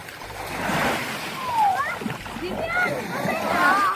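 Sea waves splash and wash around swimmers off the clean Marinduque shore, rolling surges rising and falling close by while children call out and adults talk over the water.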